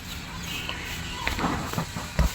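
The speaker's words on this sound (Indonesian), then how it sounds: "Nah ini ayam-ayam saya terus berkeliaran." Backyard chickens roam free and peck for food on freshly swept ground, giving a few soft clucks and scratchy rustles and footsteps nearby, with no talking.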